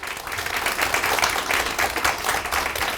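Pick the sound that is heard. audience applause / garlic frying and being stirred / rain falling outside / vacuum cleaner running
audience applause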